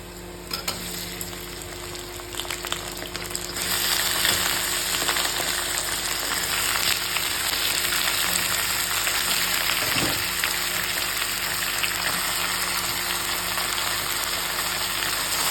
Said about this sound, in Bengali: এবার আমি দিয়ে দেবো এর মধ্যে চিকেনটা।